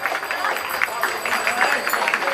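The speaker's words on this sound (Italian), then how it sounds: "con un bel applauso" A crowd applauds women cyclists at an outdoor bicycle event, a dense, continuous wash of clapping with a voice talking over it.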